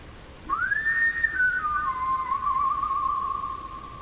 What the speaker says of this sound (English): Try whistling one more.